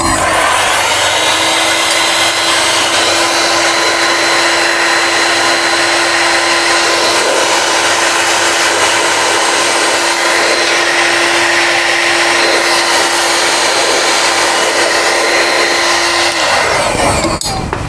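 A heat gun blows hot air onto heat-shrink tubing fitted over spacers on a motorcycle, making a loud, steady fan-and-blower whoosh with a constant tonal hum that runs unbroken and stops abruptly near the end.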